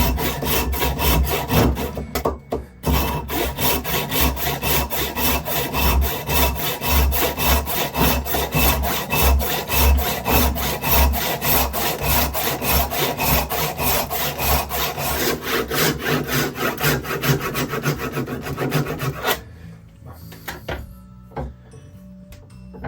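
A hand saw cuts through solid recycled ebony, a very hard wood, with paraffin wax rubbed on the blade. Steady, rapid back-and-forth rasping strokes run close and loud for about nineteen seconds, then stop, leaving a few faint knocks.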